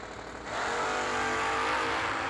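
Drag racing at the New Year Nationals, a big block 1969 Camaro against a Mustang: engines roar loudly, jumping to full power about half a second in and holding a close, sustained blare.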